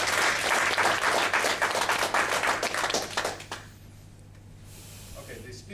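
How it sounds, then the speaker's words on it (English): An audience at a speech-evaluation club meeting bursts into dense applause that holds steady for about three seconds, then thins out and fades to a quiet room with light background murmur. "Let's give a round of applause."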